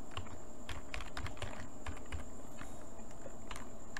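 Someone types on a computer keyboard, producing a quiet, steady run of rapid, uneven clicks with no talking.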